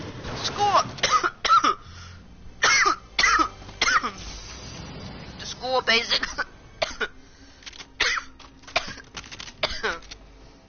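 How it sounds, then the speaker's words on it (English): Repeated harsh coughs and throat clearing break out in bursts, mixed with a few spoken words in a quiet room. "I'm actually not fake coughing."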